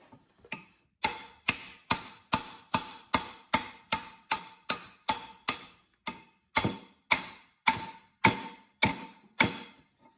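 Hammer driving freeze plugs into a Triumph TR6 engine block in a workshop: a long, steady run of about twenty crisp, ringing metal strikes at an even pace, close and alone, with a brief pause partway through.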